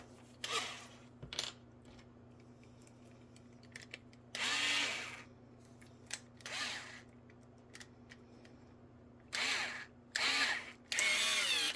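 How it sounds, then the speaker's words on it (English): A cordless drill bores a hole in a Thomas Diesel 10 toy shell. It comes in repeated short whirring bursts of one to two seconds, separated by pauses, with faint clicks and knocks between them, close and clear over a low steady hum. "I do not want to spend all day drilling that hole right there"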